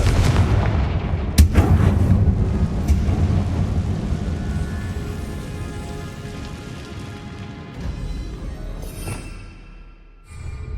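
A Confringo spell explosion in the game Hogwarts Legacy booms with a sharp blast and a heavy rumbling roar that slowly fades, followed by softer crackling debris sounds.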